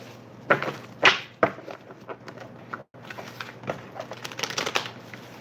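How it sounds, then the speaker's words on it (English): A deck of cards is riffled and shuffled by hand in bursts of crisp, close fluttering slaps, a short pause in the middle before a longer run of rapid shuffling resumes. "I'm just gonna shuffle until my heart is content"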